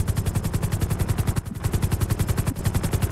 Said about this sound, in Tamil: இந்த பொண்ணு டோ டோ டோ ஃபயர் பண்ணிடுச்சு